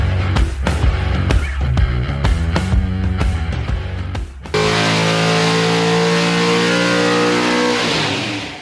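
Car engine on a dyno revving hard in sharp, loud bursts, then holding a steady high-rpm drone for several seconds before easing off at the end.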